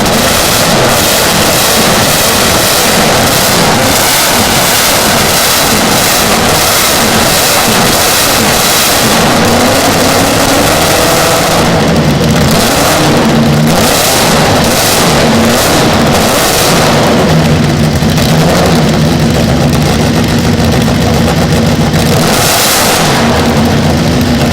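A vintage motorcycle engine, primed with three squirts from the fuel pump, fires up and revs hard, loud and close, with a rough, throbbing idle between blips and deep bursts of throttle.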